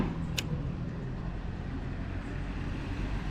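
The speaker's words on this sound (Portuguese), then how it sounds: "acabou de passar um agora, esses carros aí, década de 50, 60" An old 1950s or 1960s car rolls past on a Havana street, a low rumbling engine and road noise held steady at moderate distance, with a brief high chirp near the start.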